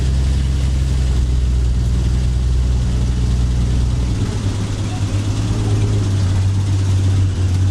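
Engine of a 1951 Hudson Hornet race car on a track, a loud, steady low engine drone with a rumbling note that shifts pitch midway as it moves through a corner, no speech.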